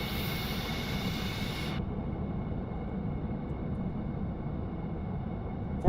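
A turbine engine in Stormworks drones steadily with a low, continuous rumble, its high whine cutting off abruptly after about two seconds while the deep roar carries on alone.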